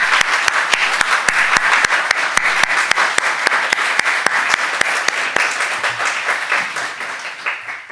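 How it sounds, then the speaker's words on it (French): Audience applause follows a talk on artificial intelligence from a Christian perspective, a crowd clapping with sharp individual claps standing out at first, then thinning and fading over several seconds. "J'aurais envie d'applaudir plus longtemps cet exposé"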